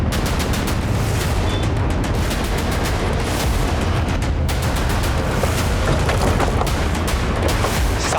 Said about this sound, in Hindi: साहब अंदर से गोली चलने की आवाज आई थी।